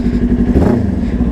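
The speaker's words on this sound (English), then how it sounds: "The bike sounds 10 times better." A motorcycle fitted with a new aftermarket exhaust runs loud and close, a deep steady engine rumble with a throaty, slightly rising rev throughout.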